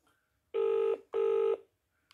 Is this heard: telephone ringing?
yes